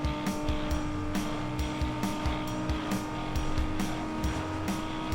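Racing cars in Need for Speed Underground 2 roar with a steady engine drone, while repeated sharp tire squeals and skids cut in through the run, loud and continuous with no talking.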